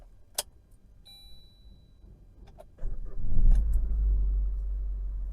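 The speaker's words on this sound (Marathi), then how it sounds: "गाडी सगळ्यात पहिले कोल्ड स्टार्ट करूया." A car's engine cold-starts on a hot day after sitting in the sun, with a few sharp clicks and a chime first, then the cranking catch and a loud, steady idle rumble close by.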